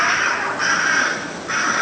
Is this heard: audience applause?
no